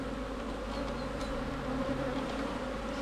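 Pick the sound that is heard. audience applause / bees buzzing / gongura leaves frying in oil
bees buzzing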